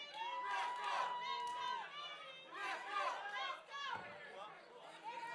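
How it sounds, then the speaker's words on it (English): Spectators at a regional MMA event shouting and cheering in surging waves, lots of overlapping excited voices swelling and dipping throughout. "The crowd is absolutely going nuts here for Demetrius Wilson."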